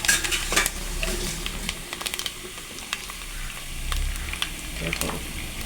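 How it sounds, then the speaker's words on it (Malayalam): Coconut slivers fry with liver, black pepper and spices for a Kerala liver roast, a close sizzle with sharp crackles and sputters, plus intermittent stirring and clinks of a spoon against the pan. "അപ്പോൾ ഈ തേങ്ങാക്കൊത്തിൻ്റെ ആ ഒരു പൊട്ടലും ചീറ്റലൊക്കെ ഉണ്ട് കേട്ടോ."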